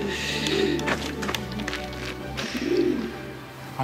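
Pigeons coo inside an old bauxite industrial site, two soft rounded calls spaced a couple of seconds apart over faint background hum and scattered noises.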